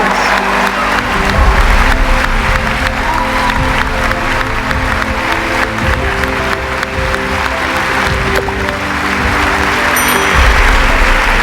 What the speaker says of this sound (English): Yes, give yourself a round of applause,